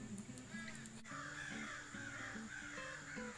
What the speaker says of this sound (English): It's a murder of crows, man. A murder of crows.